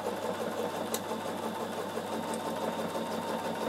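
A sewing machine runs steadily at a long stitch length of 2.9, with the left needle position and an edge-stitch foot. It stitches fabric scraps in a continuous, even mechanical whir with no talk.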